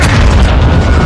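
A heavy, loud RPG explosion in the video game Modern Warfare 2, a single deep boom filling the whole short moment.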